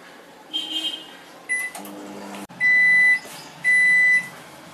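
A microwave running on high power hums quietly as its keypad beeps a few times, followed by two long electronic tones.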